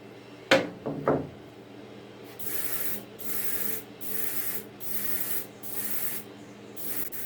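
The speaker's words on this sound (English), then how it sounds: "Here you can see the second coat of color being applied, and as you can probably tell, it's a much heavier coat" Spray paint hissing onto model aircraft parts as a heavier second coat of color goes on, after a few knocks and clatters at the start, with six or so steady bursts of a few seconds each separated by short pauses.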